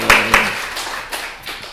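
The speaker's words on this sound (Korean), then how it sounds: "우리 하나님께 영광의 박수를 올려드립니다." A few scattered hand claps from a church congregation during a Sunday service, sharp and close, fading quickly rather than building into sustained applause.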